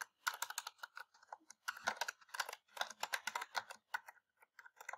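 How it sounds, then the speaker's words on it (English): Fingers tap rapidly on a computer keyboard, typing a ChatGPT prompt in close, crisp clusters of keystrokes with short gaps between bursts, quiet and without talk. "I just go into ChatGPT and type write an essay"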